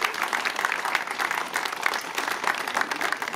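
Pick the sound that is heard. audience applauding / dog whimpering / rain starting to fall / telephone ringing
audience applauding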